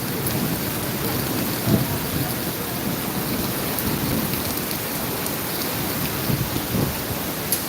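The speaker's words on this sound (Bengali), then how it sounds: "যা বৃষ্টি নামছে তার আগে এত বৃষ্টি কখনোই দেখি নাই" Heavy rain pours down in Singapore in a dense, unbroken roar, steady and loud throughout with no voices.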